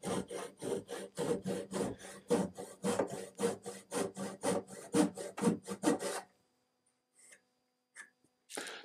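A rasp or file cuts a groove into a wooden dowel for an outdoor furniture repair with about two dozen rapid, rhythmic scraping strokes. Then it falls silent except for a few faint handling taps and a final short scrape.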